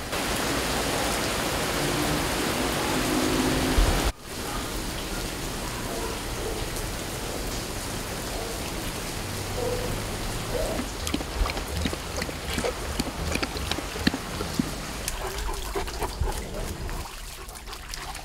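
Steady rain falls on surfaces outdoors, a dense, loud hiss with patters and trickles throughout, broken by one brief gap early on, with dogs around and faint voices in the background.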